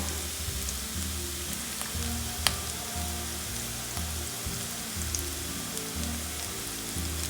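Beaten rice (aval) goes into a hot pan for aval upma and gives a quiet, steady sizzle over a low rhythmic hum, with one sharp click partway through.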